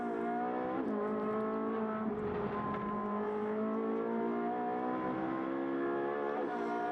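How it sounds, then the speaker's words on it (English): A race car engine in the Pirelli Trophy at Portimao, heard from onboard, drones loud and steady with strong harmonic tones, dipping slightly as the car works down to a heavy braking zone; no talk. "Great to sit back and listen from the onboard as these drivers work these cars down to this heavy braking section for turn 5"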